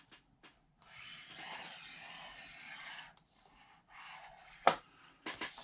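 A scoring tool is drawn along heavyweight cardstock on the 6.5 inch side: faint, soft scraping strokes in a quiet room, separated by pauses, with a few sharp clicks and taps near the end.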